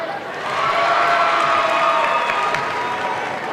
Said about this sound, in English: That noise you hear is a lot of Lions fans.